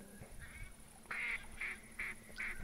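Ducks quack in The Hunter Classic duck-hunting game, four or five loud nasal calls, each repeated in a rough rhythm, over a low steady ambient hum.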